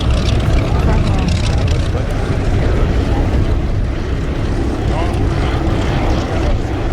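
A Lockheed P-38 flies at the Duxford Flying Legends air show, its dense, steady engine roar filling the scene continuously with no pause, loud and close, and voices sound over it.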